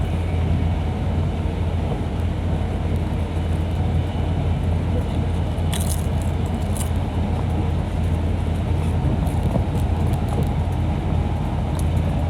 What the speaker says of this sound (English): We're overtaking a freight train.